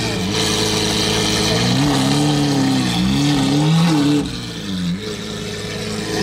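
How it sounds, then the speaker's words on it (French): A modified car with a loud aftermarket exhaust idles while parked, a heavy, droning rumble with wavering revs that rise and fall, close and loud, with faint background chatter. "J'ai rarement entendu autant de bruit d'une voiture à l'arrêt."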